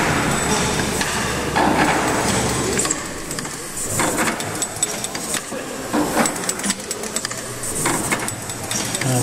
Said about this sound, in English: that will be the valve gear on the low pressure cylinder